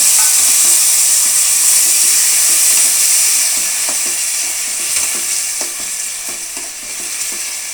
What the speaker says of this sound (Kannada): ಈಗ ಹುಣಸೆ ರಸನ ನಾನು ಹಾಕ್ತಾಯಿದ್ದೀನಿ